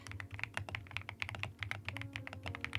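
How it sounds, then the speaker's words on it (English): Slow deliberate typing on a thocky pink marshmallow keyboard, with about twenty distinct muted keystrokes in an unhurried uneven rhythm, close and fairly soft, with no speech. "I do slower typing because this is specifically for the sound of the keys"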